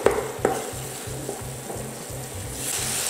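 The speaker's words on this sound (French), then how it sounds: "Les pommes commencent à compoter tranquillement." Apples for a galette des rois cook down gently in a pan, giving a soft, continuous sizzle and bubbling, with a few spoon scrapes and stirring strokes near the start and no voices.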